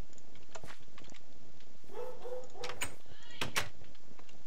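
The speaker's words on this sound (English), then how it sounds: "sorry if you hear the dog barking" A dog barks inside a house, a few sharp barks scattered across a short stretch alongside other household noise.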